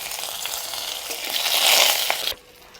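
Two or three hog plums dropped into hot mustard oil tempered with bay leaf, green chili and mustard seeds, giving a close, hissing sizzle that swells briefly before cutting off sharply, with no talking.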